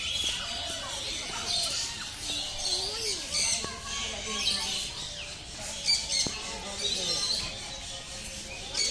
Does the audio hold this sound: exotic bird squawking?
yes